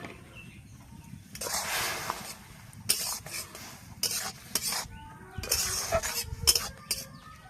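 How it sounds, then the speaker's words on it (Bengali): Soybeans are tipped into a pot of boiling water, giving several bursts of splashing, rattling and stirring noise that come and go over a low bubbling hiss, close and fairly quiet. "জলটা ফুটে গেছে। এইবার সোয়াবিনগুলো এর মধ্যে দিয়ে দেব।"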